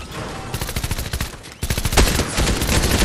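Rapid automatic gunfire from a video game crackles in dense, loud bursts, with a short gap before a heavier stretch of continuous shooting.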